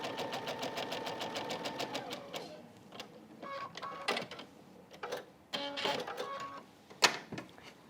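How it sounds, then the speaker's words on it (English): A sewing machine stitches quilt blocks along a marked line, a fast steady mechanical whir for about two seconds, then stops, followed by scattered handling clicks and rustles of fabric close by. "you can head to the machine and stitch on that marked line"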